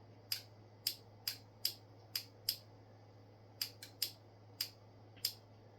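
Relays inside a Yaesu FT-101ZD Mk3 transceiver click sharply about a dozen times in irregular bursts, close and crisp over a faint steady hum.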